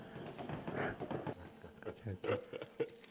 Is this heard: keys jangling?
yes